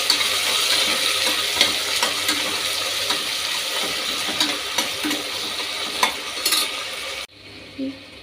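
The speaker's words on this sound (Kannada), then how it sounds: "ಈರುಳ್ಳಿ ಮತ್ತು ಟೊಮೆಟೊ ಎಣ್ಣೆಗೆ ಹಾಕ್ತಾ ಇದ್ದೀನಿ" Onion and tomato fry in hot oil with cinnamon, cardamom, fennel and kasuri methi for a quick pulao, giving a loud, steady, close sizzle and hiss with some stirring, which stops abruptly near the end.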